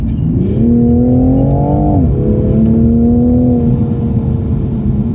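A Toyota MK5 Supra engine driving a mountain road, loud and close, its tone rising as it revs, dropping sharply at a shift, then holding a steady drone, with no talking.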